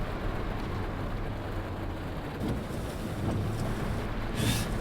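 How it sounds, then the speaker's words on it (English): Rain in The Bus driving game, a steady broadband hiss of rainfall mixed with low engine and road rumble, constant and fairly loud throughout, without any talking. "Oh, look, it's raining."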